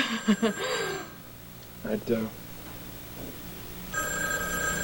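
A telephone rings in a comfortable sitting room, sounding in short repeated bursts at moderate volume, with a voice speaking at the start before the ringing continues.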